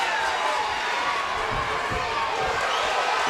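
Sold-out arena crowd at a Bellator MMA fight at Caesars in Atlantic City, a continuous roaring wash of cheering and shouting that stays steady and loud throughout.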